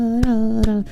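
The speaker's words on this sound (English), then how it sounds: "The clapping works." Two sharp hand claps sound about half a second apart over a steady tonal hum.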